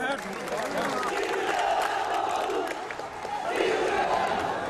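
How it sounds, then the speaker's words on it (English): A large crowd of protesters during the 2007 military crackdown in Myanmar keeps up a loud, continuous roar of mingled shouts and cries in the open street, with voices and calls rising in waves. "Crowd is growing here."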